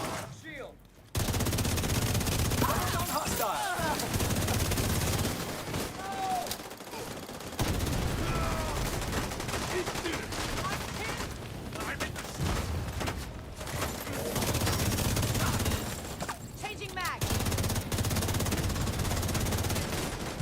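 Repeated bursts of automatic gunfire in The Division, sustained volleys with brief pauses, mixed gun rattles dominating over faint background game ambience.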